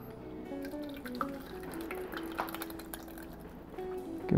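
Ice cream mixture poured into a machine, faint drips and light liquid splashes with a few small clinks, quiet and close, rising in a brief louder burst at the end.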